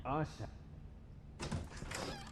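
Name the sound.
door being opened in The Wolf Among Us video game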